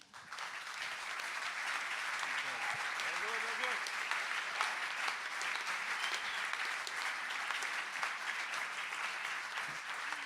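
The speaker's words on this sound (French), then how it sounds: "Je vais devoir couper court à vos applaudissements" Sustained applause from a conference audience after an opening speech at a Belgian music event, dense steady clapping filling the hall for about ten seconds at even loudness.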